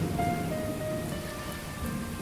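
A rain sound effect plays as a soft, continuous patter of rainfall, faint and even throughout with no talking over it.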